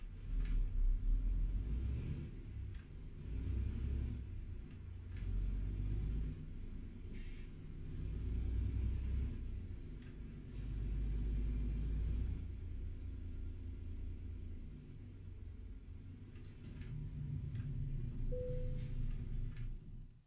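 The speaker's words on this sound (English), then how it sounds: "this is more like the truck sounds that I like. It's got more bass to it." Truck engine in Euro Truck Simulator 2, a deep bassy drone rising and falling with throttle across the whole stretch, with brief air-brake hisses and a faint whining tone above.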